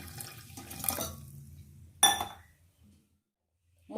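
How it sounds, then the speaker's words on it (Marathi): Lukewarm water is poured from a glass into chickpeas seasoned with a cinnamon piece, baking soda and salt for chole. A soft, quiet splash lasts about a second, then a sharp clink follows, with no talking. "ग्लास कोमट पाणी घालूया।"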